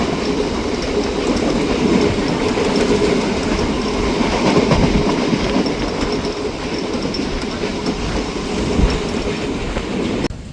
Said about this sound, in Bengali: তো আমরা নামখানা যাওয়ার জন্য ট্রেনে উঠে পড়লাম।